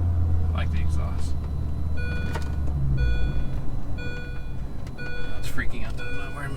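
A 2005 Mini Cooper S R53 sounds its seatbelt warning chime, a series of clear electronic beeps repeating about once a second over the low rumble of the idling supercharged engine, with some talking mixed in.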